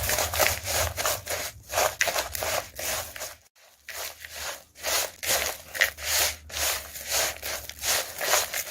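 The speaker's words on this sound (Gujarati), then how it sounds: "અને અગેન આપણે બરાબર મિક્સ કરી લઈશું." Dry-roasted Kashmiri dry fruit mukhwas being stirred by hand, a close, continuous rhythmic rustle and scrape of seeds and nuts with one brief pause.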